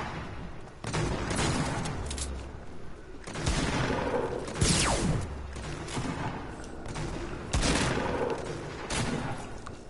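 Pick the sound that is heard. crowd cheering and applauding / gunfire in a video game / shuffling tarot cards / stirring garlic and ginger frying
gunfire in a video game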